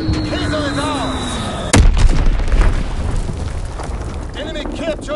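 A heavy bomb detonates in a Call of Duty WWII multiplayer match after a whistling fall, followed by a rumbling blast and scattered gunfire and battle noise.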